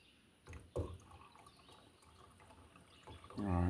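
Water is poured into a small camp cooking pot on a Primus stove outdoors, with a few brief splashes and clinks, then a louder steady pour near the end.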